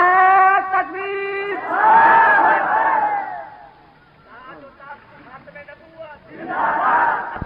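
A crowd roars a loud, unified chant in response to a preacher's Nara-e-Takbir call at a religious gathering, with the massed voices surging, dipping and rising again between stretches of speech.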